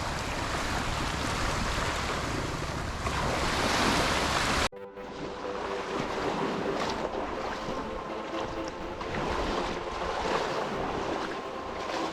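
Steady broadband rush of sea waves and coastal wind on the shore at Ko Chang, loud and constant, with an abrupt cut partway through and the roar continuing, no voices.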